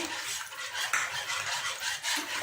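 A milk powder mixture for rasmalai being stirred by hand with a utensil, a soft continuous swishing and scraping against the pot, close and fairly quiet.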